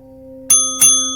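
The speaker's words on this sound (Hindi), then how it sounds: "घंटी तीसरी बार बजी।" A school bell rings twice in quick succession, each a bright metallic ding with a lingering ringing tone, loud and close over a faint steady hum.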